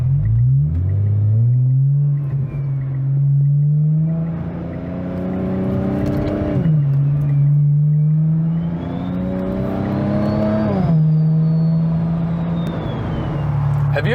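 A single-turbo N54 BMW 335i with an 8HP automatic swap accelerates hard, its engine note climbing steadily with two clear upshifts along the way, loud and close inside the cabin throughout.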